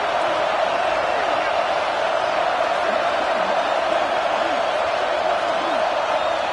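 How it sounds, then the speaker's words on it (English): A large stadium crowd in a college football video game roars in a steady, loud wash of cheering during a red-zone defensive stand, holding without a break, with faint voices mixed in. "And here comes the noise. This crowd is trying to inspire this defense"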